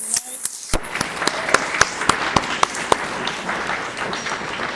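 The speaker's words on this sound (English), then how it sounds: "give them a collective round of applause and appreciation for their participation" Audience applause for finalists after a planning presentation begins abruptly and continues steadily, with a few distinct sharp claps standing out in a regular rhythm over the crowd.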